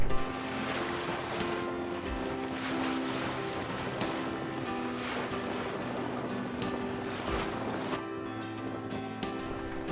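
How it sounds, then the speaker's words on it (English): A sailboat under way on the open sea off Tortola in building wind, with a steady wash of water along the hull and gusting wind noise holding at an even level throughout, no voices. "it was time to keep sailing and take Casey on a tour around Tortola"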